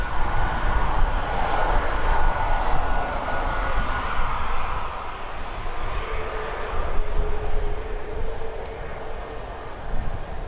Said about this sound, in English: Got EasyJet getting ready to depart as well.